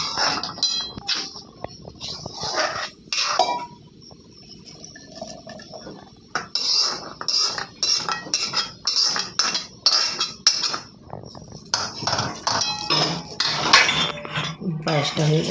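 A pot of payesh is stirred and lifted off the stove, with close metallic clanks, scrapes and clinks of utensils against the pot coming in irregular bursts.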